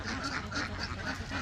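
Ducks in an enclosed duck farm quack continuously in a soft, overlapping chorus that stays fairly faint and steady throughout.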